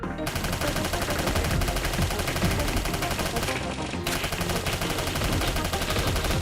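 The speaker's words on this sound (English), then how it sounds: "Advanced submachine gun." An advanced submachine gun fires in the video game Snezhinka: Sentinel Girls 2, rapid continuous bursts of loud close gunfire with a brief pause near the middle before the stream resumes.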